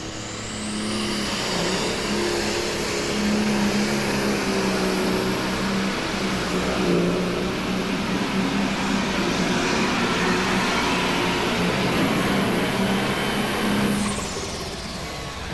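A pulling tractor roars at a tractor pull during a farm machinery show, a loud continuous engine drone holding for about fifteen seconds with no break, close and dominant over any crowd sound.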